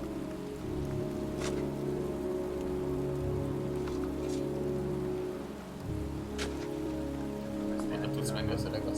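Steady heavy rain in a video game cemetery scene pours down throughout, a dense hiss with low rumbling underneath and a few sharper drips and splashes standing out.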